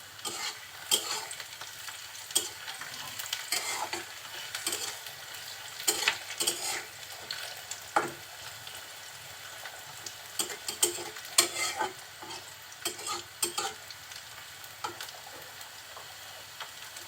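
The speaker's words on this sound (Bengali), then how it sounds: "এই তেলের ভিতরেই আমি খুব অল্প পরিমাণে জিরে দিচ্ছি।" Cumin seeds frying in hot oil with softened onion and garlic. A quiet, steady sizzle runs under repeated spoon-stirring clicks and scrapes, with no talking.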